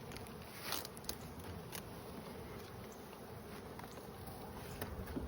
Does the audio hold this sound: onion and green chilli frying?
no